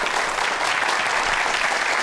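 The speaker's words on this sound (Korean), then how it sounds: "여러분들 큰 박수로 환영해 주세요" A studio audience welcomes a camera-lens parts company CEO onto a Korean science TV talk show with a short, steady burst of dense clapping. It stays loud and even throughout, with no voices.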